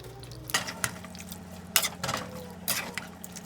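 Potato and capsicum masala gravy, with water added, being stirred in a pan: a spoon scrapes and clinks against the metal in irregular strokes over a soft simmer.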